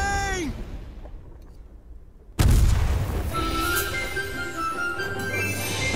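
Ship cannon fire and explosions in the naval game Her Majesty's Ship: after a quieter stretch with a descending tone, a sudden heavy boom hits, followed by a loud rumbling roar of continued blasts, with a voice speaking under the din.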